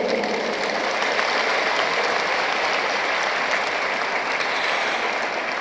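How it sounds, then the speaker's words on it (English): A velodrome audience at a sports event in Nigeria applauds a minister, a dense, loud, continuous wash of clapping that holds steady for several seconds with no break. "the Honorable Minister deserves an applause that can bring down the roof of the velodrome"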